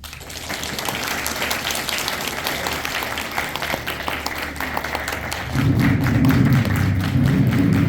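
An audience at a convention applauds steadily after a theatrical vampire performance, with dense, continuous clapping near and far. A low rumble swells under the clapping in the last couple of seconds.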